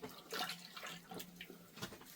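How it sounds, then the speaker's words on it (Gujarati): Tomatoes and potatoes being washed in a water-filled basin, with close, continuous splashing and sloshing as the vegetables are moved around, no voices. "ટમેટા નાખી દેવું પાણીમાં"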